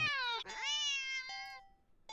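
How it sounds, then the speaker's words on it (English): Two drawn-out, high meows from a cat in a horror video game, close and clear, the second bending upward before trailing off, followed by a brief short chirp. "the cat meows sharply at you and dashes off around the corner and into the hall"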